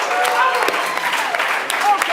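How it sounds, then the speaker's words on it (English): Applause from a main stage show audience, a brief, steady wash of clapping at moderate distance with a little crowd noise mixed in. "Give your guys a round of applause."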